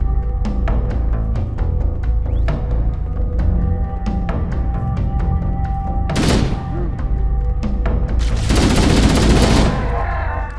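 Rapid gunfire from Halo: Combat Evolved, a steady run of loud, sharp shots in quick bursts, followed by two broad, noisy blasts of heavier fire or explosions near the end.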